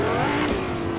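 A car engine in Fortnite hums and revs steadily at moderate loudness, with a continuous tonal drone that wavers slightly in pitch over a brief stretch.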